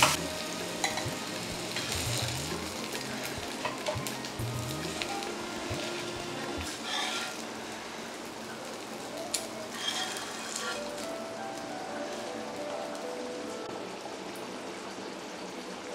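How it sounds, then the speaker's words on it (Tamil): Fish fries in hot oil with curry leaves, a steady close sizzle and crackle with occasional stirring and scraping, then settling into a softer continuous frying hiss. "இங்கே ஃபிஷ் ஃப்ரையும் வந்து ரெடி ஆகிட்டுருக்குது"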